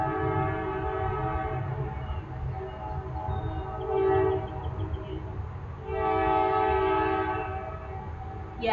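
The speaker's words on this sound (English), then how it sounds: "I don't know if you can hear that whistle. I don't know if that's a train coming through." Whistle of a train passing on a street behind a house, a steady tonal blare held through most of the span, swelling twice, with a low rumble underneath, heard from indoors at moderate distance.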